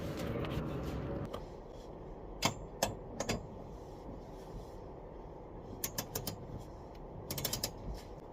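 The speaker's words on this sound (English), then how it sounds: "We're going to tighten this down to 20 foot-pounds and that down to 40 foot-pounds" Torque wrench tightening a Z1 harness bar's bolts to 20 and 40 foot-pounds; scattered sharp metallic clicks in small clusters, close but fairly faint over a low background hum.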